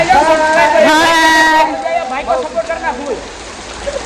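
Steady, heavy rain hisses throughout at Girnar while voices sing and talk loudly over it, the voices fading after the first couple of seconds.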